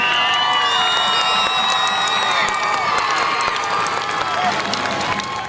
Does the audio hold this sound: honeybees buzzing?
no